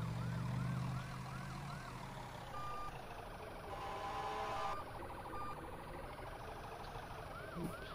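An ambulance siren in a Tennessee roleplay Roblox game gives short repeated whooping chirps, then quiet stretches with faint electronic tones, the siren fairly soft against steady engine and road noise.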